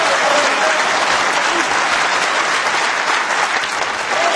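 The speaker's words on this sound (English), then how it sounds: "what a reception Ronnie O'Sullivan gets from this Crucible crowd" The Crucible snooker crowd gives loud, sustained applause for Ronnie O'Sullivan's break, a dense, even roar of clapping held throughout.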